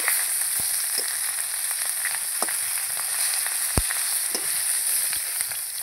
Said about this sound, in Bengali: এই যে উল্টে দিচ্ছি একটু মাথাগুলো, যাতে ভালো ভাজা হয়।